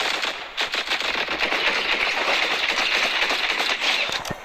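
Rapid automatic gunfire in a Fortnite Zero Build match, loud bursts of shots crackling almost without pause for several seconds, with no voices.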